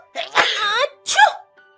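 A woman gives two loud, close sneezes in quick succession, the first drawn out and the second shorter and sharp.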